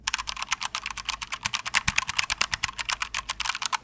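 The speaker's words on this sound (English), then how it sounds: "I like how the brown switches sound, but just for comparison, this is how the brown switches sound" Fast typing on a Keychron K2 mechanical keyboard fitted with brown switches, a close, even run of crisp key clacks with no voices.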